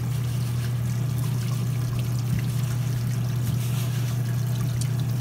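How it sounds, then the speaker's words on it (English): Water runs and trickles steadily over a gold shaker table as it is brushed down at the end of a run on Gold Cube tailings, with a constant low motor hum underneath throughout. "I'm brushing the table down, which is what you do after you're done for the day"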